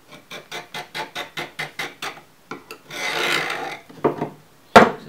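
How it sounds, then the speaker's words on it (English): A metal scribe scratches a marking line across metal during an electric trike build: about a dozen quick, even rasping strokes in a steady rhythm, then a longer continuous scrape and a few sharper scratches, close and clear, no talk. "I'm using a metal scribe just to get a more permanent mark that won't come off"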